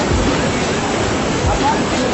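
Water rushing out of a flood tunnel into a river in Aceh Utara, a dense, steady roar of churning flow with no break, loud and close throughout.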